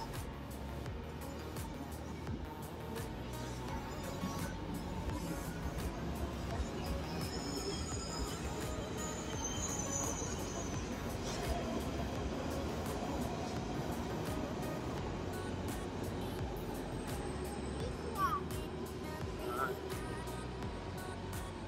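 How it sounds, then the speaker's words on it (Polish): A train pulls into Berlin Hauptbahnhof with a steady rumble and high metallic squeals from the wheels, continuous and moderately distant, with faint voices in the background. "Jest, wjeżdża spóźniony pociąg"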